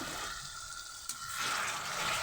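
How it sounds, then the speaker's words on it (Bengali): Water pours into a cooking pot of pointed gourd curry, a soft hiss that swells after a brief clink and continues steadily, quiet and close. "পটলগুলো দিয়ে আমি অল্প পরিমাণ একটু পানি দেবো"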